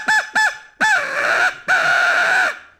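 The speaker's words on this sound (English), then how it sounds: "Another great locator call, especially throughout the day, is the Hammerin crow call." A Hammerin crow call used as a turkey locator, blown loud and hard: two short caws followed by two long drawn-out honking caws, harsh and close with silence between them.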